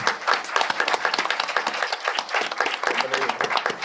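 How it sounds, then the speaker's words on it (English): Steady applause from a lecture audience honoring PhD students, many hands clapping together continuously, close and fairly loud. "so that we can clap for them"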